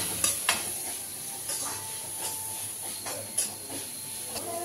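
Onions fry in a pan for gobi manchurian, giving a steady close sizzle and hiss, broken by occasional scraping stirs.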